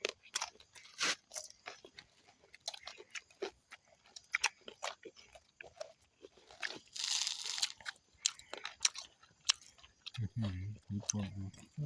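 Crunchy chewing of crispy squirrel koi, a Lao dish, with repeated close crackling bites in irregular bursts while people talk nearby.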